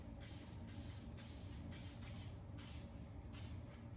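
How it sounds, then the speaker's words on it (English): Several short hissing bursts of cooking oil spray onto the bottom of a pan, coming in quick uneven pulses, fairly quiet and close, with no talking. "I just spray the bottom of this with cooking oil."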